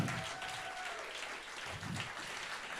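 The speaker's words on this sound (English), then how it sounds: "So, big applause, please, from you." A room full of people at a circular economy startup pitch event applauds steadily, dense continuous clapping at moderate volume throughout, with faint voices underneath.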